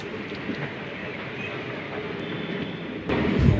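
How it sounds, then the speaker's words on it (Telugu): Narsapur–Nagarsol Express rolling into platform number 1 at Bhimavaram station, a steady low rumble of the approaching train with faint metallic tones, growing louder toward the end. "Narsapur Nagasol Express is coming on platform number 1."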